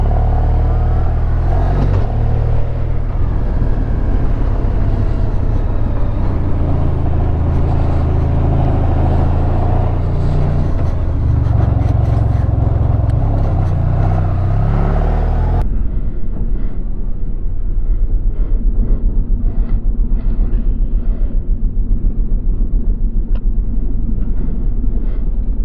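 A Honda VFR1200X Crosstourer motorcycle engine labours loudly up a steep hill with a heavy, rumbling drone that drops to a quieter, lower note partway through; there is no talk.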